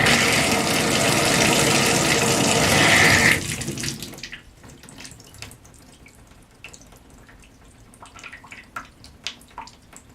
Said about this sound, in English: I'll just do a couple seconds of water and then we'll see how it drains.